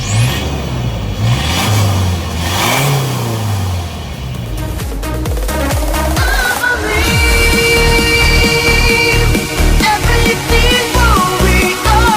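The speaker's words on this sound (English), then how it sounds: "let's take this new 2023 ISUZU D-MAX X-Terrain for a quick spin, shall we?" A 2023 Isuzu D-Max X-Terrain pickup's engine revs up loudly and accelerates, its pitch climbing through gear changes with a steady, close drone and no talking.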